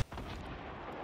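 Rocket explosions in the video game Fortnite, in a high-explosives game mode: a short, dense, booming blast that fills the whole second with loud rumbling noise, with no talk over it.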